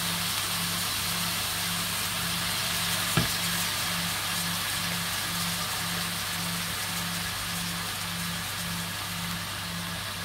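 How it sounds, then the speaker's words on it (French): Rooster carcass meat scraps grilling in a pan give off a steady, dense sizzle for the whole stretch. A low pulsing hum runs underneath, with one brief tap near the start. "Je vais mettre à griller tout ce que j'ai récupéré sur la carcasse."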